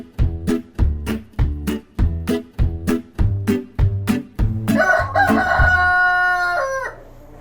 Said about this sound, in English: a pair of vigilant young roosters who'd love to help you shepherd your backyard flock of hens